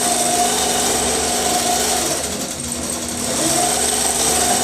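A Millie longarm quilting machine driven by Quilt Path stitches an allover feather pattern, giving a loud, continuous motor drone with a steady high whine that dips briefly in the middle before returning to full strength.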